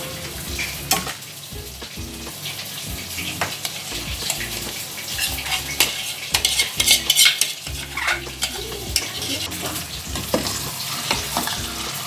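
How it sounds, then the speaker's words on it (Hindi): Tomato paste fries with chicken karahi in a wok, sizzling steadily while a spoon stirs and scrapes against the metal in busy, repeated strokes, loud and close with no voices. "तो हम मिक्स करके थोड़ी देर पकाएंगे जब तक हमारी कढ़ाई भुन नहीं जाती।"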